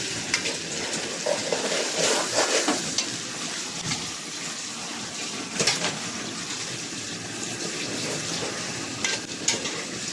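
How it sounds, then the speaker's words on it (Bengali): Rice is fried and stirred in a pot for bhuna khichuri, giving a loud continuous sizzle with repeated scraping and stirring sweeps, close up and steady throughout, with no talking. "এই যে চাউলটাকে ভাজা ভাজা করে নেওয়া হচ্ছে এখন"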